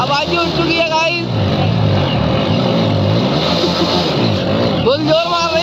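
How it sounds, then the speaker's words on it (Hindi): A vehicle engine strains hard under load, a loud, continuous laboring drone with rising and falling revs, while people talk over it. "बहुत जोर मार रही है गाड़ी"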